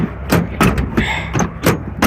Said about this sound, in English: Let me close these doors.